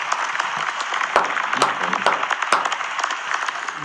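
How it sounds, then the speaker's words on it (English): Applause sound effect switched on during a casual podcast-style chat, a steady wash of clapping with a few sharper individual claps standing out, fairly close and uninterrupted by talk. "Where's my applause? I need to turn it on."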